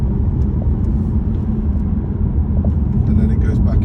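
Inside a hybrid car on the move, a loud, steady low rumble of road and drivetrain noise fills the cabin as a voice talks over it throughout.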